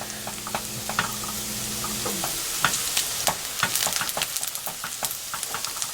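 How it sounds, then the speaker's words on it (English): Onions cook in a pan for a mushroom omelette, hissing in a steady sizzle while a utensil scrapes and taps in quick irregular strokes, close and moderately loud, with no one speaking. "I love the smell of onions as they're cooking like this."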